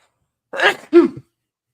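A single sharp sneeze, close and loud, in two quick bursts with silence before and after.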